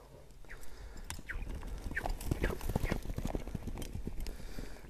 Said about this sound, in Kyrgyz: Эми азыр чабып көрөлү, Ат сууган, даяр эле ат болуш керек